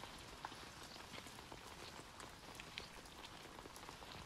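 Rain falling at night in the Lovebrush Chronicles video game, a steady dense patter of raindrops on a surface, continuous and even throughout, with a few slightly louder drops standing out and no voices.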